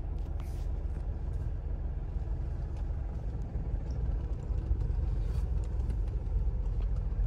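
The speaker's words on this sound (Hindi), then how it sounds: "देखो, मैंने छोड़ा और गाड़ी चलने लगी" A car engine rumbles at low revs as the clutch is released and the car starts to roll, a steady close drone that swells slightly toward the end.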